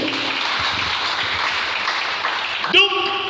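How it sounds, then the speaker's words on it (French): A church congregation applauds the Lord with a sustained, fairly loud wash of clapping that holds steady and then is cut off by a brief tonal sound near the end. "Est-ce qu'on peut acclamer le Seigneur?"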